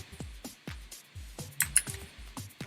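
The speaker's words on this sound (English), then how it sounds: "Still getting used to the new keyboard." Fast, uneven typing on a new computer keyboard, close and clear, with sharp clicky keystrokes and a few louder clacks, steady through the stretch with no talking.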